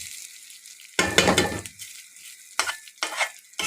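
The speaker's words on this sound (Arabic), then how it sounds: "شوح الرز كده في السمنة شوية." Rice being stir-fried in ghee in a pot while making an economical chicken, vegetable and rice dish: a loud burst of scraping and sizzling, then two shorter stirring strokes, close and with no talk.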